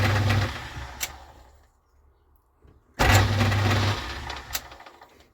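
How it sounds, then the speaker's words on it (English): A small metal bush mounted in a lathe, the motor whirring up to speed in two runs separated by a short near-silent pause, close and fairly loud with a steady hum while spinning. "So I just turn it on now and spin it up"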